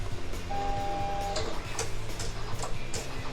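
A Silhouette craft cutter cutting a glossy vinyl sheet, with a steady mechanical whir, a brief motor whine and regular soft ticking clicks throughout.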